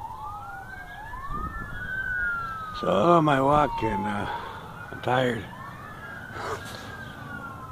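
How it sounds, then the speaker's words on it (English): Several distant emergency vehicle sirens wail and sweep in rising, falling tones throughout a walk outdoors, steady in the background while a person speaks now and then over them. "Hear the sirens over there."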